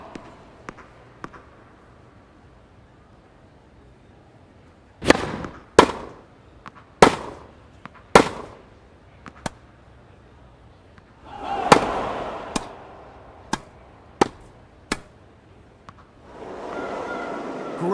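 Sharp racket strikes trade back and forth in a Tennis World Tour rally on PS4 against Gasquet, a dozen crisp pops at uneven intervals with a brief swell of crowd noise partway through and near the end.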